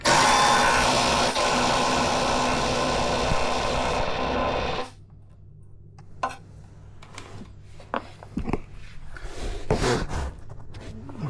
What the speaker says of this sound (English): But can we get the socket in there with the ratchet?